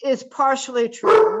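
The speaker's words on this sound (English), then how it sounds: "I'm sorry about my dog barking" A dog barks once at close range indoors, right after a person's short remark, cutting sharply into the speech.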